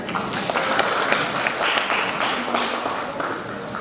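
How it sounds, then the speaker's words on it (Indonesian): A crowd applauds steadily at a church choir competition, a dense wash of clapping that holds throughout at an even level. "Sekali lagi kita berikan tepuk tangan."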